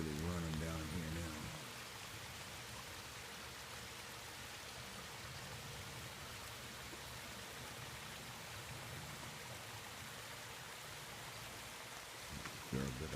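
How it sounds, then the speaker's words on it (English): Rainwater runs steadily down the slope at Killiney Beach after rain, a constant broadband rush of flowing water near the microphone, with a voice talking briefly at the start and end. "Water's really running down here now."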